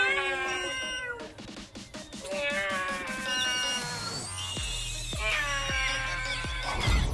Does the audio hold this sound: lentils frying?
no